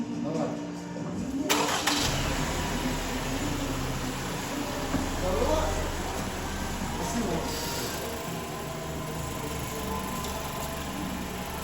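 A Lexus NX 200T engine cranks and catches after a jump-start, then settles into a steady mid-pitched idle that runs throughout, close to the microphone, with someone talking over it.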